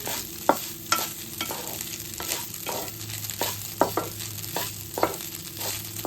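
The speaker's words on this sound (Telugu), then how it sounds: "ముందుగా మనం వండుకున్న రైసు వేసి కలుపుకుందాం." Cooked rice being stirred and mixed in a hot pan for garlic rice, with repeated scraping strokes and a light sizzle, close and steady with no talking.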